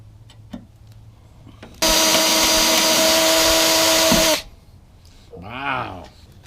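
A loud, steady electric drill whine runs for a couple of seconds while drilling a hole for car hood pins, starting and stopping abruptly, with quieter handling noises before and a brief rising sound after.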